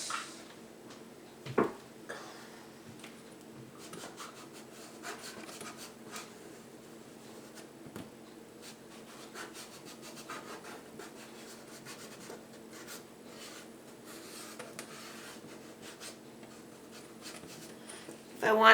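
An eraser rubs across a charcoal drawing to lift out clouds: a faint, steady scratchy rubbing on paper that runs on quietly, with a sharp knock near the start.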